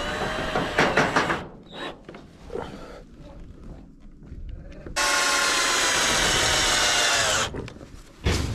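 A power drill drives screws through roof sheet metal, with a long loud steady whir near the middle, shorter bursts and clatter before it, and another brief burst at the end.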